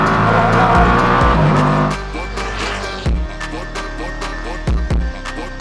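A Koenigsegg hypercar races a sports car over a standing quarter mile. Loud, close engine roar with tire noise fills the opening, then drops into a lower drone punctuated by sharp gear-shift bursts and pops.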